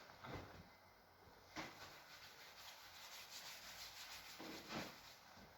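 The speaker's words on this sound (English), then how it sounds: "Oh, I need to rub this out." Writing is rubbed off a board with an eraser in a classroom-style setting, giving soft, faint scrubbing strokes in several separate bursts with quiet gaps between them.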